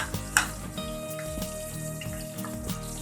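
Chopped onions frying in hot ghee for shahi meat pulao, a steady watery sizzle and crackle with a sharp spattering pop near the start, close and continuous throughout.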